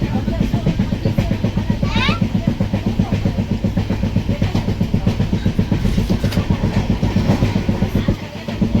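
Passenger train interior in motion, with a steady rhythmic clickety-clack of wheels over rail joints and a low rumble throughout, children and adults talking faintly underneath.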